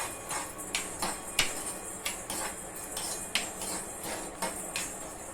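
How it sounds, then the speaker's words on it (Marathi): Black peppercorns dry-roasting in a pan, with a spoon or spatula scraping and clinking against the metal in a loose, repeated rhythm of light taps and rattles, close up and fairly quiet with no talk. "हे थोडंसं असं भाजून घ्या, त्याला थोडंसं रोस्ट होऊ द्या।"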